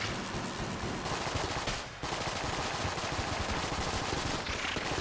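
Rapid gunfire from the Enter the Gungeon video game rattles nonstop, a dense continuous stream of shots with one brief pause near the middle.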